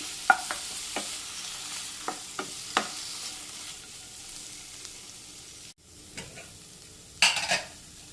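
Jackfruit masala frying in a pan, with a soft steady sizzle under a spoon that taps and scrapes the pan at intervals, close and without talk.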